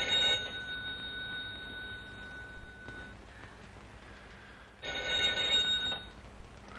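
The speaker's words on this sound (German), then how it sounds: "Telefon läuft." A telephone rings in two loud bursts separated by a quiet gap, the bell trilling near and clear with no voices.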